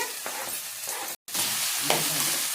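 Onions and tomato fry in a pan, a dense steady sizzle broken by stirring scrapes, close and loud, with a very brief gap in the middle.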